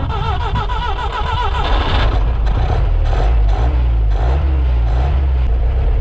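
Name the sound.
Willys CJ-3B Jeep engine starting after gas poured in carburetor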